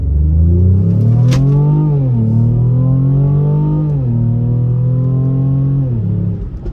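A Mercedes-AMG GLE 43 SUV with a 3-liter twin-turbo V6 pulls under load, a loud, close engine drone that rises and falls through several gear changes, each shift marked by a brief dip in pitch, with no talking.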